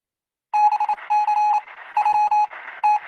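An electronic ringing sound effect plays as a bell-like ring, with loud, bright tone bursts pulsing in quick rhythmic groups after a moment of silence.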